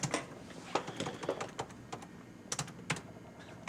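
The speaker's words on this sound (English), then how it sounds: "Should I type? Yes, type." Fingers tap on a computer keyboard nearby, a quiet, irregular patter of keystrokes with short bursts and pauses, with no talking.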